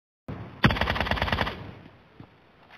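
Gunfire in a shooting video game, a close, loud automatic burst of rapid rhythmic shots lasting about a second that then fades, followed by one faint later shot.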